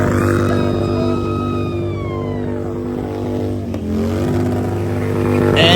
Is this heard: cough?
no